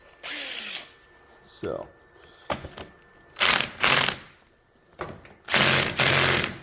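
A cordless impact wrench struggling on drive shaft bolts of a Firebird, several short close bursts of hammering with pauses between, while a person speaks briefly.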